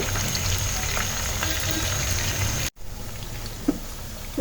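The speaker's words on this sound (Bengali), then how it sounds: "মাছটা আমি একটু লাল করে ভেজে নিব" Fish sizzles steadily in hot oil while frying until reddish, a dense continuous crackle close up, briefly cut off near the middle before the bubbling resumes, with a small clink near the end.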